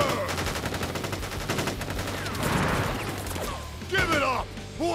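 Soldiers fire a volley of gunfire in Crisis Core Final Fantasy VII, a dense burst of rapid shots over loud battle noise, with shouted voices mixed in.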